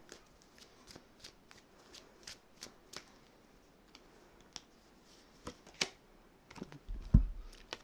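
Tarot of the Golden Wheel cards being shuffled by hand, a series of soft, rhythmic riffling snaps close up and fairly quiet, with a slight bump of handling at the end.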